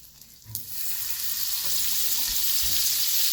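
A burger bun and butter slice hit a hot frying pan, starting with a soft clatter and then building into a steady, bright sizzle that carries on close and even, with a couple of light knocks.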